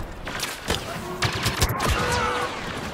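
Rapid blaster fire from a Star Wars Battlefront match: bursts of sharp, overlapping shots cracking in quick succession over steady game noise, with a player's voice faintly present.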